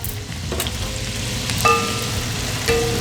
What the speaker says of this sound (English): So I'll just let that fry for a little bit, and I don't want it to burn